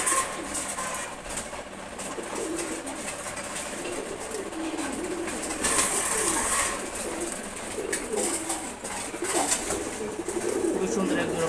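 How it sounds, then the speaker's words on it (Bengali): Pigeons cooing at feeding time in a loft of fancy breeds, low repeated coos heard through a busy background with some voices and faint engine hum. "খুবই সুন্দর এক জোড়া কবুতর আছে।"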